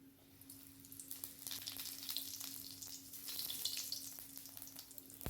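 Whole garam masala and cumin seeds sizzle in hot oil left over from frying potatoes, a soft, steady crackle and hiss that swells slightly midway, heard alone at low volume.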